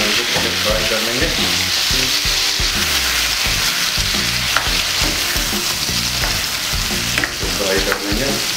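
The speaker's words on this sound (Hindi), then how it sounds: "मसाले के साथ चिकन को फ्राई कर लेंगे" Marinated chicken frying with spices in a pan for butter chicken, a loud, steady sizzle with stirring scrapes running throughout, near and continuous with no talking.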